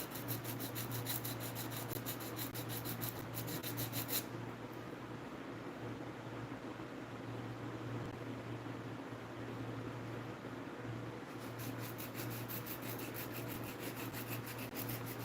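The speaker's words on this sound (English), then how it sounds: "I'm gonna sand it. We got tools for that." Wood is sanded by hand in steady rasping strokes, a continuous scratchy rub with brighter bursts at the start and end, heard close up alongside a low, constant background hum.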